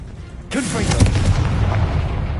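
A Confringo blasting spell goes off in Hogwarts Legacy on PS5: a sudden loud burst that rolls into a sustained roaring, crackling blast lasting about two seconds.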